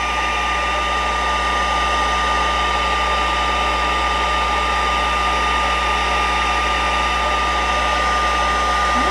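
A heat tool blows steadily on embossing powder on card stock, melting it into shiny trees; a continuous, loud fan-like whir with a steady hum runs unbroken throughout, with no talking.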